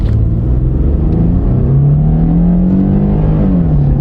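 A heavy Toyota car accelerates hard, its engine rumbling loudly and rising steadily in pitch with no one speaking.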